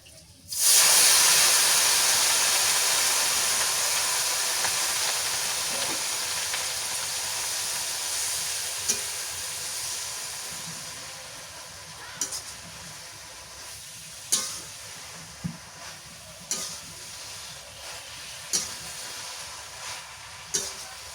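Leafy greens dropped into a hot pan of oil with fried garlic and chili: a loud burst of hissing steam that slowly fades to a softer sizzle, punctuated by several sharp spatula knocks and scrapes.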